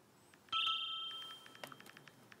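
A mobile phone's text message alert, a short bright electronic tone sounding once, fairly close, followed by a few faint clicks.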